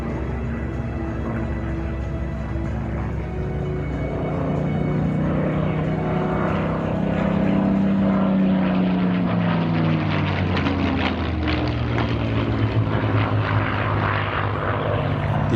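Spitfire warbird making a belly pass at an airshow, its propeller engine a loud sustained drone that swells and sweeps downward in pitch as the aircraft passes close by, with no talk.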